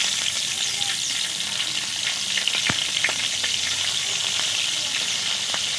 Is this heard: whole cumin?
yes